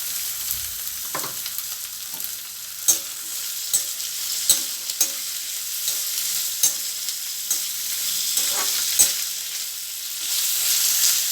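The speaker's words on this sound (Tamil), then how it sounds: "இப்போ நம்ம கோவக்காயை மட்டும் முதல்ல போட்டு நல்லா வதக்கிக்கிறோம்." Ivy gourd (kovakkai) sautéing in oil in a pan, a steady bright sizzle throughout, punctuated by regular clacks and scrapes of a spoon stirring, close and clear with no voices.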